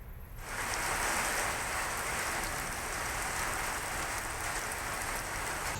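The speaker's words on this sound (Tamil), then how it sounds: "கடந்த ஒரு மணி நேரமாக கனமழை பெய்து வருகிறது" Heavy rain pours steadily around Anaicut, Pallikonda and Odugathur near Vellore, a dense, loud, unbroken hiss of downpour with no voices over it.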